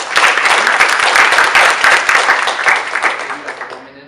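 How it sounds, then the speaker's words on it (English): An audience claps for Jayden at the close of a blockchain and crypto talk, a dense, steady burst of applause that holds for several seconds and then thins out and fades near the end. "get one more applause for Jayden"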